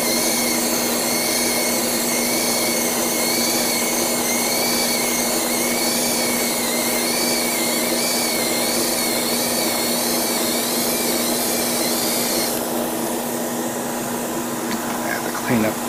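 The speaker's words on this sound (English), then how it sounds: "I'm using my older airbrush" An older airbrush sprays primer onto a 1/4000 scale Revell Imperial Star Destroyer model kit, giving a loud, steady hiss over a constant compressor hum that continues throughout, then changes slightly near the end.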